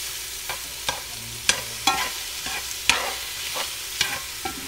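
Lobster cooking in a cast iron pan, stirred with a utensil that makes a run of distinct scraping strokes about every half second over a steady sizzle.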